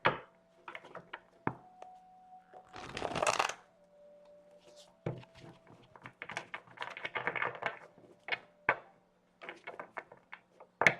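Miracle Now affirmation cards are shuffled by hand in several close, riffling bursts with soft taps and flicks between them, in a quiet room with no talking.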